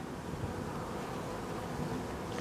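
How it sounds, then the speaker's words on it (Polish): Honeybees buzz at a hive with Ul 13 on its comb foundation, a steady dense hum filling the air close by and unbroken throughout, with no voices. "Jest to pszczoła, proszę Państwa, pracowita."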